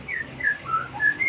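Several short bright whistled calls from startled white-rumped shamas (magpie robins) at a breeding aviary repeat over a steady hiss of background noise, spaced irregularly across a second or so.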